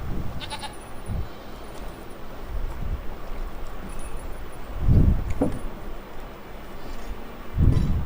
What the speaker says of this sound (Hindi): बकरी काट ले।